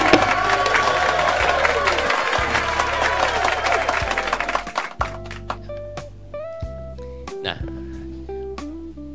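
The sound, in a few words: applause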